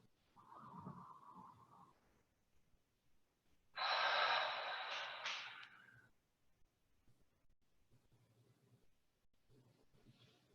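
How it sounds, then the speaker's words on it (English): A loud, breathy open-mouth exhale during a yoga session, lasting about two seconds in the middle, with quieter breathing and soft voice before and after. "A few open mouth exhales here."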